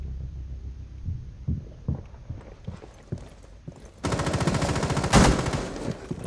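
Gunfire in Rainbow Six Siege during a Skyscraper team deathmatch round: scattered single shots and footsteps at first, then a sustained burst of rapid automatic fire with a loud peak near the end.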